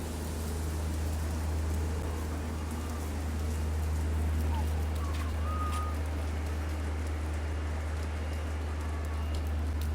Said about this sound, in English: It is raining, yeah.